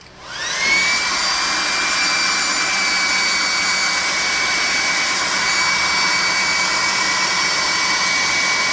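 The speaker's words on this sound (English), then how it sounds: "Blow dry it dry." A hair dryer blows steadily and loudly to dry paint on a miniature worm for a tabletop RPG, a continuous whirring roar that spins up in the first second and holds evenly to the end.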